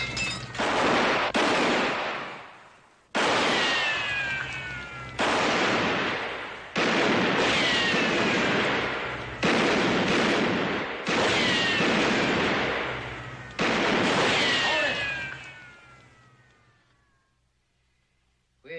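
Gunfire in a western shootout, a series of about eight loud, sharp shots spaced a second or two apart, each ringing out with a long echoing decay and ricochet whine.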